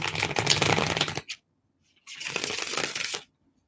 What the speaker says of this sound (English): let me finish the shuffle